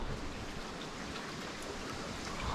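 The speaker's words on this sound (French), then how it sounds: "il pleut un petit peu du coup, mais c'est pas très grave" Light rain falls outdoors during a skateboard journey across France, a steady, even hiss of drops filling the whole stretch with no voices or other distinct sounds.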